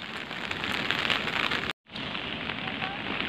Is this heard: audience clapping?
no